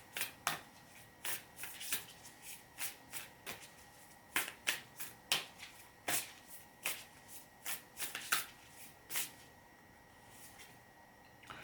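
A tarot deck being shuffled, with crisp, close card riffles and snaps in a quick irregular rhythm, fairly quiet, and no talking.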